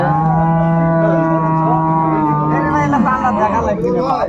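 Cattle at a milk cow and calf market moo loudly and close by in one long, sustained call, with crowd chatter in the background.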